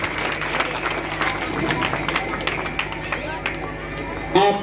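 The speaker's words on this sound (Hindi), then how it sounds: "और एक बार आप लोग जोरदार तालियों से स्वागत करिए।" Audience applause welcoming a chief guest at an inauguration ceremony for a drama performance, with scattered clapping and crowd murmur beneath an ongoing voice.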